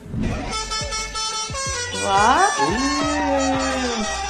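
A loud truck horn plays the tune of a song, its tones sliding up and down in a rhythmic musical phrase, close and prominent, in India.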